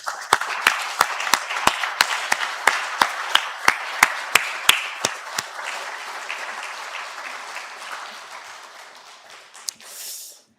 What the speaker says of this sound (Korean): 우리 뜨거운 박수 한번 보내겠습니다